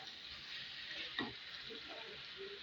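Pointed gourd, potato and prawn curry sautéing in a pan, a steady soft sizzle and frying hiss throughout with one brief stirring scrape near the middle, close and fairly quiet.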